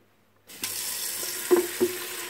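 Water running from a kitchen tap to refill a boiler, starting after a short silence and flowing steadily with a few splashy bumps.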